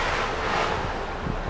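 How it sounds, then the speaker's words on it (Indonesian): Ocean waves break against beach cliffs at Batu Pica on Biak Island, heard as a dense, continuous wash of surf mixed with wind, steady and fairly loud with no voices. "Deburan ombak bagai irama alam yang menghantam tebing pantai"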